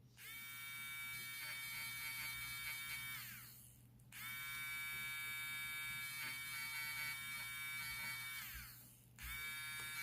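An electric eraser buzzes against drawing paper in two long, steady high-pitched whirring bursts, a brief pause between them and a third starting at the end.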